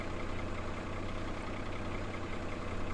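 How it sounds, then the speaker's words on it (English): A tractor engine idles at tick over in the farming video game Farming Simulator 17, a steady low drone that holds constant and fairly quiet with no voices. "this thing has the tick over sound running as well as the actual engine sound"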